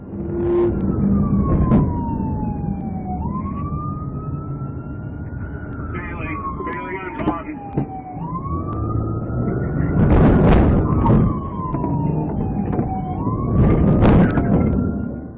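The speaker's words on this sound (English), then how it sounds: "Sirens wail as backup screams onto the scene" Police sirens wail in a chase through traffic, several rising and falling tones overlapping, loud and near, with bursts of engine and road noise and short whooping yelps mixed in.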